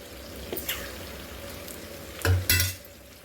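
Chicken frying in a pan with garam masala, mint and coriander is stirred, giving a low steady sizzle with a couple of louder scraping strokes near the end.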